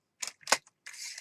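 Paper being cut for a pink and black junk journal, with two short crisp snips followed by a longer, steady slicing stroke through the sheet, close up and alone.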